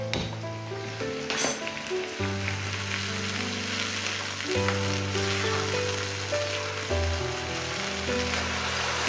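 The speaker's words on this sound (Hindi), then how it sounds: "अदरक लहसुन मिर्ची का घोल डालने के बाद में इसको हम हाई फ्लेम पर भुनेंगे।" Ginger, garlic and chili paste frying on a high flame for Gujarati kadhi gives a constant hiss and sizzle, heard under steady background music.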